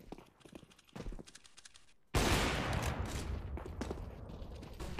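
Gunfire erupts in a CS:GO match, a loud dense burst of rapid shots cutting in after quieter, scattered game noises, with no voices over it.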